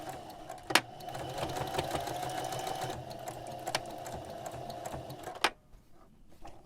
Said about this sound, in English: I'm going to go ahead and sew the top seam on each pocket, but not the side or the bottom seams